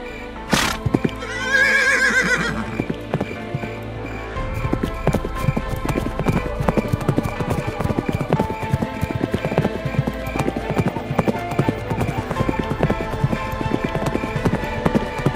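Cartoon horse gives a sharp snort and a loud rising whinny, then steady, fast clip-clopping hooves in a brisk trotting rhythm carry on over a continuous backdrop of music.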